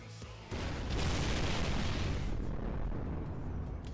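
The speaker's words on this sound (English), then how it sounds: "And absolute explosions everywhere." A big burst of explosions erupts in the mobile game Fate/Grand Order, a sustained roaring blast that swells suddenly after a brief lead-in and rumbles loudly for several seconds before fading slightly.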